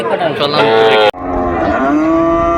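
Cattle moo loudly at close range at a cattle market with young bulls and heifers, two long lowing calls in succession.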